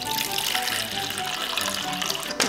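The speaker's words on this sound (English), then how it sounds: "we're going to measure out our 9 ounces of ice water." Tap water runs steadily into a measuring vessel, a continuous close splashing rush with a faint rising fill tone, ice water being measured out for bagel dough in a home kitchen.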